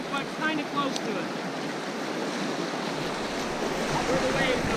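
White water rapids on the Middle Youghiogheny River rush in a steady, dense roar of churning water, close and continuous for several seconds with no break.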